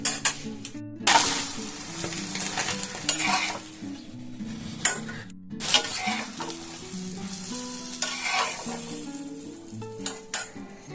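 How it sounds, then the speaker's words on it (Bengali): Three eggs frying in oil in a pan, with steady loud sizzling and spatter broken by intermittent scraping stirs and clinks of a utensil, close and continuous with no voices. "তিনটে ডিম আমার ভাজা হয়ে গেল"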